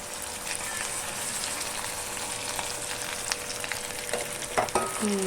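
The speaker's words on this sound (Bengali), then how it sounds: "হুম এবারে জলটা ঢালি।" Water goes into a hot pan of frying mustard paste, with a continuous sizzle and gushing hiss that flares into a brief burst of splashing near the end, heard up close without speech.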